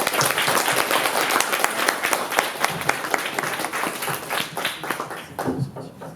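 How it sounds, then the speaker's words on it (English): A crowd at an academic teach-in applauds after closing remarks, with steady, dense clapping that fills the whole stretch, sharp individual claps standing out and tapering slightly near the end. "can we have a round of applause for Amna?"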